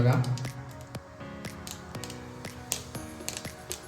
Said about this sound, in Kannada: ಇವಾಗ ಸಾಸಿವೆ ಮತ್ತು ಜೀರಿಗೆ ಚಟಪಟ ಅಂತ ಸೌಂಡ್ ಬರ್ತಾ ಇದೆ ಅಲ್ಲ